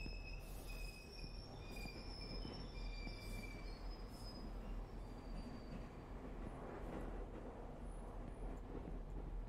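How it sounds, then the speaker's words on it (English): A train pulls in with long, loud metallic wheel squeals over a steady rumble of rolling railcars, heard alone in the horror video game Ghost Train. "Okay, I guess my train is here."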